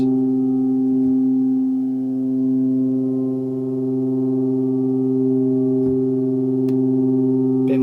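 A sustained, bright Korg Volca Modular synthesizer tone with the low-pass filter opened, holding one steady pitch with rich harmonics, droning evenly throughout with no talking.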